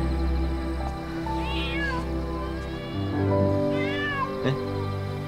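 A kitten meows twice in a quiet indoor scene, each cry a rising, wavering call close to the listener, separated by a pause over a low background hum.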